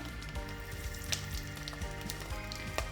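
Cloves, cardamom, cinnamon and star anise fry in hot oil for bagara rice, a soft continuous sizzle with faint crackles and an occasional light clink, close but quiet, no speech.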